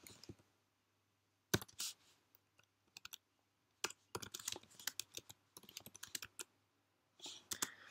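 Lyrics typed on a computer keyboard in quiet bursts of rapid clicking keystrokes, separated by short pauses, close and fairly soft, with no voices.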